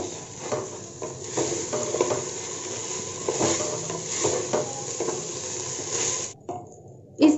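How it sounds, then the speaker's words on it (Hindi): Rice for cashew garam masala pulao stirred and roasted in a pan over high flame, a steady dry sizzle with repeated scraping and clinking of the spoon against the pot, ending in a brief pause and a final clank. "हम इसे हाई फ्लेम पे 1 मिनट के लिए भून लेंगे"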